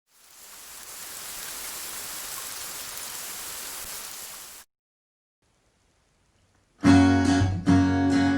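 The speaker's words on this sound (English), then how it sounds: "Not long after that, God sent the rain." Steady rain pours down for several seconds, a dense even hiss of falling water, then stops abruptly into silence before music begins.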